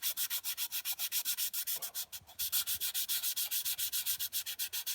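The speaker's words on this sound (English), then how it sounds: "So let's just say you're sanding the top." Sandpaper rubs back and forth across the top of a resin coaster in a steady, rapid rhythm of even strokes, close and fairly quiet, briefly pausing midway before resuming with no voices.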